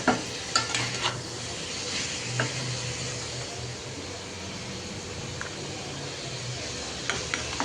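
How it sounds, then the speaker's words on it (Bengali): Spiced small fish and chopped potatoes stir-fried in a pan, a steady close sizzle with scattered scraping and clinking stirring strokes, with no voices. "গুঁড়া মাছে মশলা দিয়ে কষিয়ে এখন কুচি করা আলুটাও দিয়ে দিলাম"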